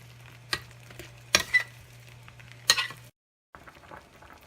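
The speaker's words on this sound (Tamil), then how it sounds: "மூடி போட்டு கொதிக்க விடுங்க." Pepper chicken gravy cooks in a covered pan, giving a low bubbling sizzle broken by a few sharp clinks of a utensil or lid, over a steady stove hum that cuts out near the end.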